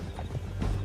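Horse in the Red Dead Redemption 2 video game, its hooves clip-clopping close and steady while it lets out a whinny, with a low rumble of game noise underneath.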